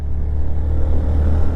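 Car engine labouring in gear up a steep mountain road near Kumbhalgarh Fort, a steady low drone heard close and fairly loud without any talk.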